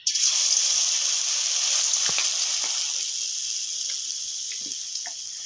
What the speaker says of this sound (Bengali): আমার কড়াই গরম হয়ে গেছে, এখন আমি আলুগুলি এক এক করে সব ভেজে নেব